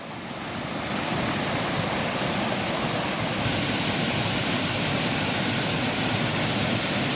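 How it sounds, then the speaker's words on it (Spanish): The waterfall at Quebrada La Victoria roars in a dense, constant rush of falling water, loud and close, with no other sounds breaking through. "Esto es lo que es la cascada en la Quebrada La Victoria."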